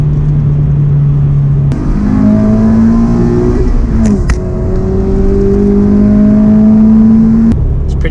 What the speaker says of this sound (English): as the exhaust breaks in, it's going to get a little bit louder